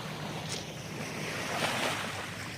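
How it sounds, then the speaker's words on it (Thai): Sea waves wash onto a sandy beach at Phra Samut Chedi, a steady broadband rush with gusts of wind noise, a swell building near the middle and continuing without speech. "มีเสียงคลื่นเสียงอะไรครบหมดทุกอย่าง"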